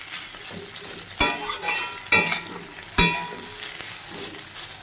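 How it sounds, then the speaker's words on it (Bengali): Gourd peel and potato pieces frying in a wok, with steady close sizzling broken by several sharp scrapes and clinks of a spatula stirring through the pan. "লাউয়ের খোসা আর আলু ভাজা"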